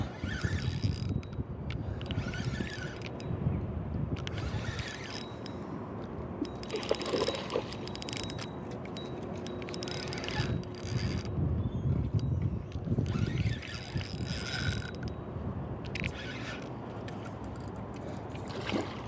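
A fishing reel's drag clicks and ratchets in irregular bursts while a shad is fought on the Columbia River at Bonneville Dam. The sound is close and fairly faint, set against outdoor rumble and mechanical rattle.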